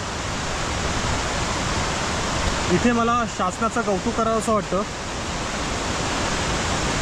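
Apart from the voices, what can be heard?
waterfall roaring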